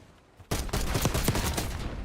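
Video game gunfire erupts suddenly after a half-second of quiet, a dense burst of rapid shots and rattling machine-gun fire that stays loud to the end.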